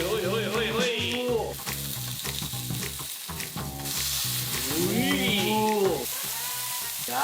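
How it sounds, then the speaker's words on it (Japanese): Yakiniku-style beef from Costco frying on a hot plate gives a loud, continuous close sizzle and crackle, while excited voices exclaim and chatter over it. "じゃあ焼いていきましょう。"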